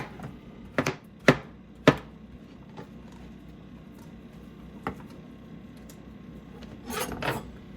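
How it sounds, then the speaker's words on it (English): A knife chops mushroom on a cutting board, giving a few sharp, close taps spaced irregularly with quiet scraping between them. "Cut the mushroom."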